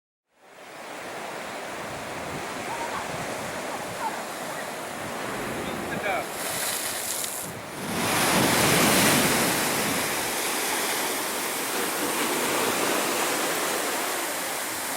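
Ocean waves wash steadily onto a granite beach at Redbill Beach, Tasmania, a broad continuous roar of surf that swells louder around midway and then holds at a full, close wash with no talk.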